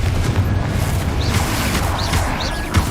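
Confringo spell explosions in the Hogwarts Legacy video game come as a run of heavy booms and thuds over dense battle noise, several bursts spaced irregularly and sounding loud and close.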